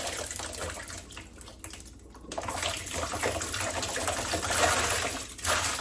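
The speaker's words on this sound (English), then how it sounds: "Dump them in the water." Freshly picked blackberries are dumped into a bowl of water, a continuous splashing, pouring wash up close that dips briefly, then swells again, with no talking.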